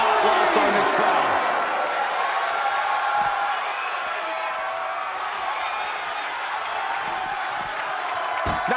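Arena crowd noise from a WWE 2K20 NXT wrestling match, a broad roar of cheering that stays fairly steady and fades slightly midway, with thuds and a commentator talking over it.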